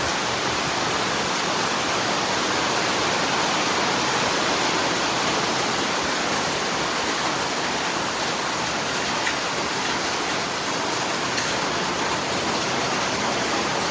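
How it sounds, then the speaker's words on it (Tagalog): Heavy rain pours down steadily on a rooftop as floodwater rises below, a dense, unbroken roar of water that stays loud and even from start to finish with no voices. "Gamit kayo ng payong at ingat dahil masyadong malakas ang ulan."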